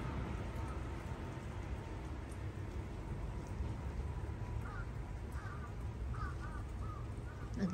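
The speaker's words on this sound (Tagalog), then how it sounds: "Nag-iingay yung mga uwak dahil siguro giniginaw yung mga yan." Crows caw a few times in short bursts midway through, heard over a steady wash of rain or wind noise during a snowy day in Japan.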